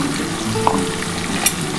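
Spices added to cauliflower and potato frying in a pan for a rohu fish curry give a steady, close sizzle with a couple of brief stirring scrapes, and no talking.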